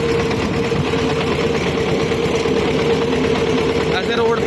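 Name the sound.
tractor engine running while driving on road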